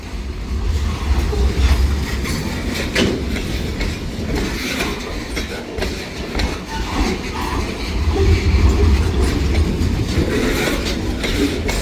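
A train runs along the railroad with a continuous rumble and rhythmic clickety-clack of wheels over the rail joints, loud and close, with no one talking.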